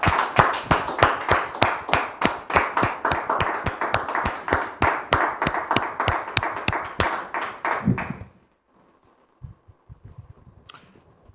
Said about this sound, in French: Merci de recevoir ici et maintenant Muriel et Arnaud sous vos applaudissements.